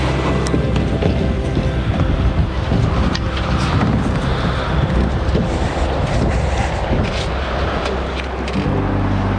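A river flowing in springtime in a small American town, heard as a steady, close broadband rush of water mixed with wind buffeting the microphone, continuous throughout with no voices.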